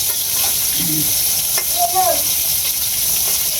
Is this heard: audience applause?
no